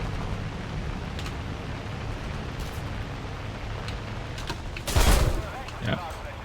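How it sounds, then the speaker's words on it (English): Short burst of aircraft gunfire from a gunner in a high-tier propeller-plane combat game, one loud clustered volley near the end and a smaller one after, over steady engine drone. "I guess his gunner shot a few rounds"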